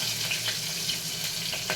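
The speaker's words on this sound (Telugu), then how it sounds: "ఆయిల్ వేడయ్యాక తాలింపు గింజలు వేసుకుందాం" Mustard seeds, cumin and green chillies sizzle in hot oil for a chana dal tomato curry, giving a steady close frying hiss with small crackling pops and no voices.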